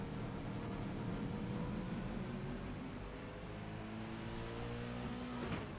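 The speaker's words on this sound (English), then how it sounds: "engine sounds are a bit weak compared to iRacing" A race car engine in the rFactor 2 racing simulator drones steadily on an oval, a continuous tone that rises in pitch as the car accelerates, heard alone and fairly faint.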